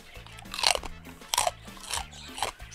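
Homemade chicharrón, fried crispy pork rind, crunched in three distinct sharp bites about a second apart, each a close, brittle crackling snap with brief quiet between.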